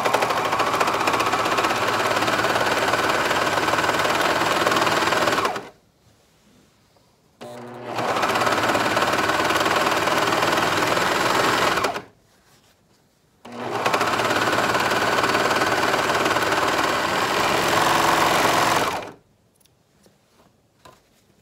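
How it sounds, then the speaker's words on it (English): An overlock serger stitches along a fabric edge in three long runs, a steady, loud, close mechanical whir with rapid ticking, separated by short quiet pauses. "All right, so I'm ready to serge."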